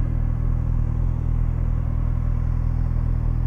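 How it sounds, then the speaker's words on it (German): Steady low engine rumble of a truck with a learner driver at the wheel, heard from beside a Kawasaki Ninja ZX-6R 636 motorcycle, droning evenly and close with no rise in pitch. "da kommt ein LKW-Fahrschüler"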